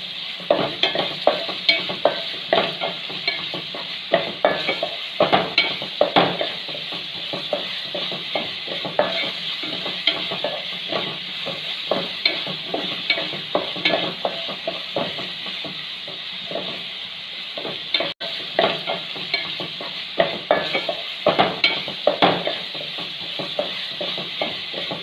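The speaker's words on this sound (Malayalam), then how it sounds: "നല്ലതായി നന്നായി അത് വഴറ്റണം" Chopped ingredients sautéed and stirred in a pan for kushka rice, a steady sizzle with frequent scraping clinks of a spoon against the pan, close and continuous without talk.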